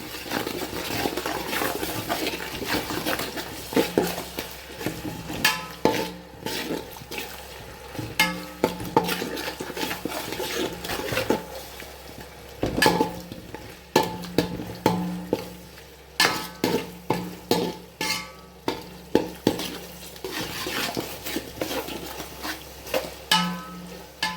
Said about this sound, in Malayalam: ഇഞ്ചി വെളുത്തുള്ളി പേസ്റ്റ് ഇട്ട് കൊടുത്ത്